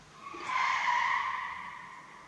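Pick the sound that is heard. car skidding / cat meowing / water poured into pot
car skidding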